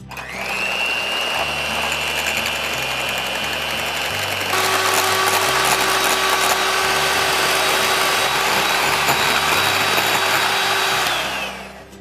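Electric mixer whips egg whites with a tablespoon of sugar and cream of tartar for a pie topping, a steady high whir that jumps up to a louder, faster speed midway and runs continuously before cutting off near the end.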